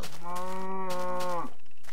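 A single cow moo from the Minecraft video game, one long, clear, tonal low call lasting over a second, close and loud with no talk.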